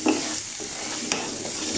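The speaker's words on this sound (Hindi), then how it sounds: "बस इसको हल्का सा फ्राई कर लूँगी मैं।" Cumin and spices fry lightly in a pan with a soft steady sizzle, and a couple of brief stirring scrapes sound close by.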